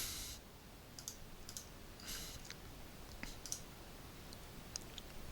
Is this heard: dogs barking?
no